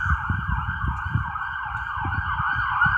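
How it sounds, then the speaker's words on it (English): An ambulance siren wails continuously, its rising and falling tone sweeping steadily and prominently over rumbling traffic, sounding fairly close throughout. "oh no, that's an ambulance."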